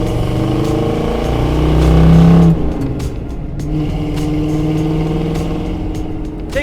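1970 Ford Bronco U-100 with its original 302 V8 driving, a deep rumbling engine note that swells as it revs and then settles into a steady cruise, loud and close, with no talking.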